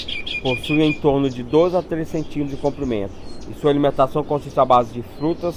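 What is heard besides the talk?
medium ground finch (Geospiza fortis) song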